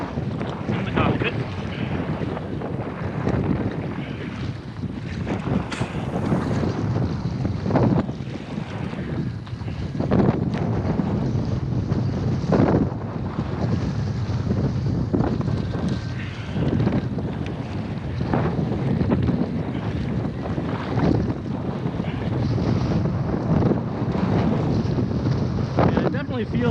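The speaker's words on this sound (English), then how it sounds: "Feels like 20 miles an hour when the wind's blowing like this." Strong wind buffets hard and continuously against the microphone while kayaking in a Pungo 140 on open water with swells, a loud rushing roar with gusty surges and sloshing water underneath.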